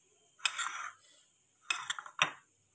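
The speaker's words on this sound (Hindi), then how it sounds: "और इसको अच्छी तरह से मिक्स कर लेंगे।" Chickpea chaat with onion tossed in a bowl, heard as a few separate bursts of spoon scraping and clinking against the dish, close and fairly quiet, with pauses between them.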